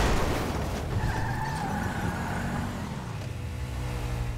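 A car in Grand Theft Auto V drives steadily with a loud, close engine drone and road rumble, its pitch rising and falling as it accelerates and shifts, with a brief tire squeal partway through.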